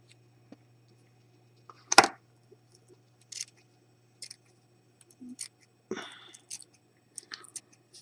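Scissors cutting wick cotton for a rebuildable atomizer, a sharp close snip followed by sparse quiet clicks and rustles in a near-silent room with a faint steady hum.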